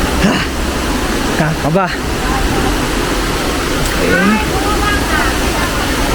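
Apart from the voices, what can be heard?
rushing water of Cambugahay Waterfalls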